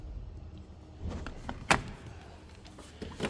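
Third door of a 1997 Chevrolet C1500 Silverado pickup opening, with a soft latch click and a few clunks and rattles at close range, ending in a sharper knock.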